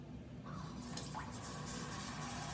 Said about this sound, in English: Running kitchen faucet.